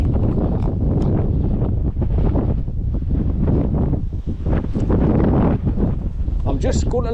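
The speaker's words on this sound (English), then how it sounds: "I'm just going to launch myself in the gust of wind." A gust of wind buffeting an exposed ridge on a hillside walk, roaring steadily and loudly against the microphone for the whole stretch, with a person's voice faintly under the noise.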